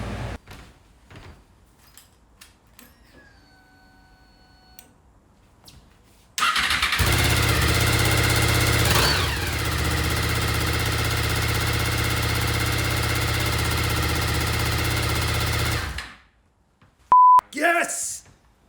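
After some faint clicks and a few tones, a Honda VFR800Fi motorcycle engine starts and idles loudly and steadily for several seconds, then cuts off, followed by brief beeps.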